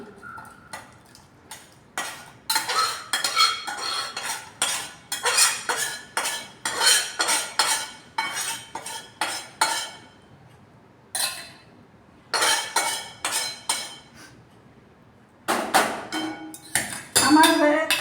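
Egg and potato curry being poured from a pan into a serving dish, heard as repeated scraping and clinking of a spoon against metal cookware in bursts with short pauses, close by.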